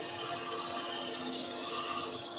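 Disc sander attachment running on a wood lathe while turning a German smoker, giving a steady, continuous abrasive whir and hiss that stays close and fairly loud throughout.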